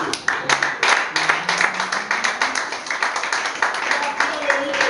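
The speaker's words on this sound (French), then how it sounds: "J'aimerais qu'on acclame très fort la parole de Dieu." A church congregation applauds, dense rhythmic clapping that stays strong for the whole stretch, with voices calling out over it.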